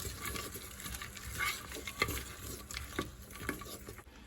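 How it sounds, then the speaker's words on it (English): Black-eyed peas being stirred in a pot for a vegan dish, a soft scraping and sloshing that rises in gentle strokes with a couple of brighter spoon clinks, close and moderately quiet with no talking. "Just sprinkle a little bit in there, and give it a stir."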